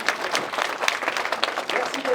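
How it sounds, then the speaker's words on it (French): A large crowd at a village festival applauds itself, brief bright scattered clapping with a lively uneven rhythm, voices murmuring beneath it. "Vous pouvez vous applaudir, vous êtes très nombreux."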